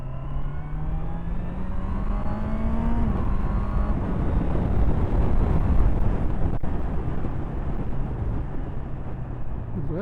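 A 2024 Honda CBR650R with E-Clutch rides in second gear, its engine droning and changing pitch under heavy wind rush over the mic, steady and loud for the whole stretch.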